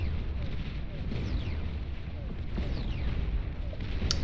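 Heavy strategic bombers' bombs detonate in the Beyond All Reason strategy game as a continuous, dense roar of rumbling explosions that hold loud and steady throughout.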